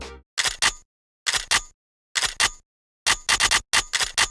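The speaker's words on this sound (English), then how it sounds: "Some other sounds I included was this gun cock sound, and I also made it pan from left to right" A sharp mechanical gun cock sound effect in a Jersey Club beat, repeated as paired metallic clicks in quick bursts with silent gaps between, panning from left to right.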